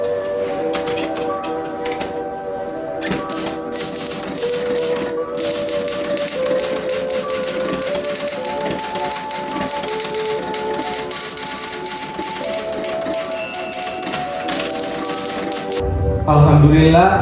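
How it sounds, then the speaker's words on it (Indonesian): Manual typewriter typing out Indonesia's independence proclamation text, a steady run of clacking keystrokes under a continuous music bed, with a louder swell near the end. "Sayuti Melik pun mengetik teks tersebut."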